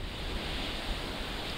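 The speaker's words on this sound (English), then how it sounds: "A little windy here at the coast today." Steady broadband wind noise buffets the microphone at the coast, with a constant roar like surf underneath, no voices present.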